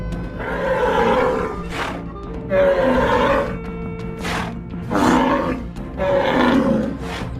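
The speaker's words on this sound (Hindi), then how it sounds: "बैल अपने नाक से जोर की आवाज़ निकालता है" A large bull forces four loud, rough blasts of breath through its nose in a steady rhythm. Each snort is harsh and close, with short gaps in between.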